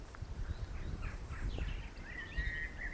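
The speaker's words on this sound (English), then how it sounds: "Birds singing" Faint birdsong with a few short chirps and a thin whistled trill, distant over low outdoor rumble and breeze, by St Andrew's church in Brockley, Suffolk.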